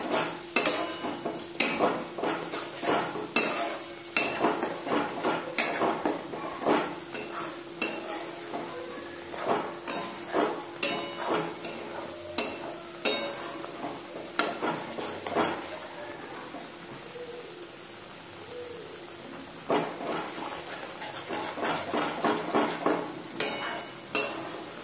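Spice masala for vegetarian matar paneer being stirred and fried in a pan, with repeated scraping and clattering strokes of a spoon against the pot over a soft sizzle, steady and close throughout.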